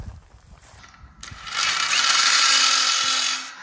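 A power impact tool whirs steadily for about two seconds as it spins a socket on a vehicle's wheel nut, loud and close, after a short stretch of quieter mechanical fumbling.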